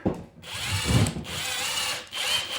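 A power drill drives a screw into a wall stud while a mini split heat pump is mounted in a shed, whirring in two sustained bursts with a brief pause between them, close and fairly loud with no talk.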